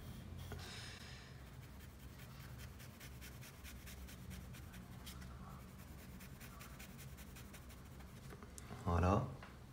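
Pen drawing and colouring on paper, sketching a small glasses rim and filling it in black for a Fortnite scorpion emoji; soft scratchy strokes run steadily under continuous talk, with a brief louder burst near the end.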